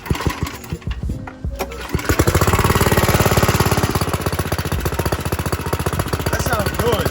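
Rebuilt go-kart small engine with a new muffler and air box, cranked with a few rough sputters, then catching and running at a steady rapid putter, close and loud, with a voice briefly audible early on.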